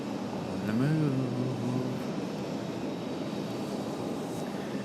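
An Aer Lingus airliner moves along the ground at Raleigh Durham airport, a steady low engine rumble with a brief rising and falling whine near the start, heard at a moderate distance.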